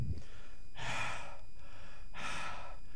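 A voice imitates heavy, exhausted panting: two long, breathy gasping exhalations, close and loud, separated by a brief pause.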